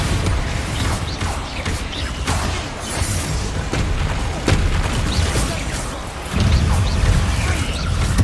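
Blasting spell effects in Hogwarts Legacy crackle and boom in dense, repeated bursts over a rumbling game soundscape, loud and close, with heavier impacts toward the end.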